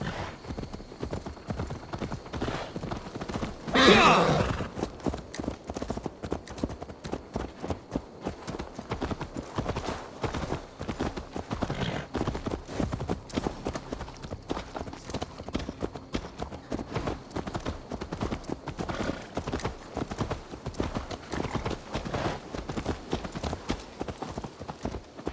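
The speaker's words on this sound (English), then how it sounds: "Let's return the horse." Horse hooves clip-clopping in a steady, brisk rhythm in Assassin's Creed Valhalla, continuous and fairly close, with a brief louder burst early on and game ambience underneath.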